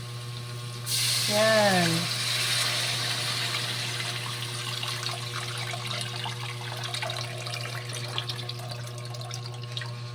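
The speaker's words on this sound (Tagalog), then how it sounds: "magpapakulo na lang ng tubig. Dito mismo sa ginisahan ko." Water pours from a pot into a small frying pan of sautéed meatballs with a brief hissing splash, then a steady low simmering rush continues under a constant hum, with a short spoken word.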